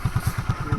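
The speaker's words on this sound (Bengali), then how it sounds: "বাইক শিখাচ্ছে ভুট্টোরে" Motorcycle engine running in a jungle setting while a rider learns, heard as a steady pulsing thump repeating about seven times in under a second, fairly close and without speech.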